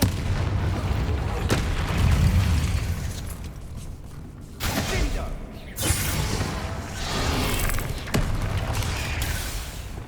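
Booming spell blasts from Bombarda in Hogwarts Legacy combat, several heavy thuds and bursts over a constant, busy battle din.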